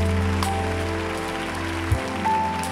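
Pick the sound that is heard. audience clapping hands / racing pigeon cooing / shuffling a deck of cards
audience clapping hands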